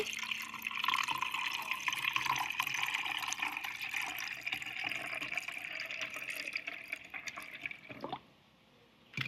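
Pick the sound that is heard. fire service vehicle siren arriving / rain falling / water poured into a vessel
water poured into a vessel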